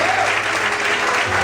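Brief burst of a church congregation applauding at a morning service, thick steady clapping from many hands over a faint held keyboard chord.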